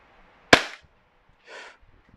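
A WE custom Glock 17 airsoft pistol fires a single shot: one sharp, close crack that decays quickly, followed about a second later by a softer, brief mechanical sound in otherwise near silence.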